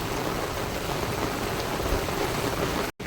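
Steady rain pours down in a forest, a dense continuous hiss of drops falling close by that cuts out briefly just before the end.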